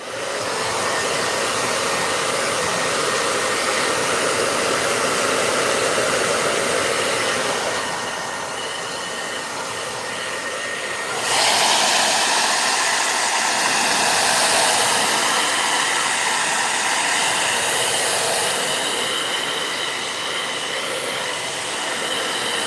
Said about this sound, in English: So out comes my old hair dryer again.